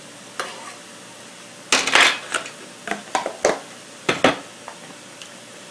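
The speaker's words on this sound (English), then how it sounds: "And I'm going to mix this up." Cooked spaghetti squash is stirred with a little butter in a dish. A spoon scrapes and clinks in short bursts, several close, sharp strokes in irregular rhythm against the container.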